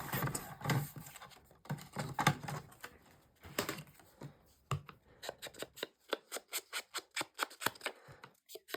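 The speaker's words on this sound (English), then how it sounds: "Trim off that bit." Paper trimmed for a handmade album: close scissor cuts, first in loose irregular snips and then in a quick, even run of crisp clicks and slices, with no talking.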